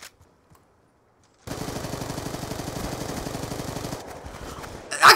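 Video game shooter: after a quiet start, a steady rapid stream of automatic gunfire rattles on for several seconds, then fades with a loud burst at the end; no talk over it.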